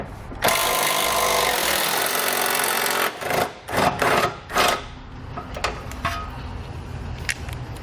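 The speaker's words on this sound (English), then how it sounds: "I'm using an 18mm socket to remove it." An 18mm socket on a ratchet loosening muffler hanger bolts under a 2017 Ford, a long continuous whirring run followed by short bursts of metallic turning and scraping, close and loud with no talking.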